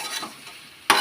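Mutton fry being stirred in a pan over low heat, with soft scraping and sizzling through most of the second and a louder burst of scraping at the very end.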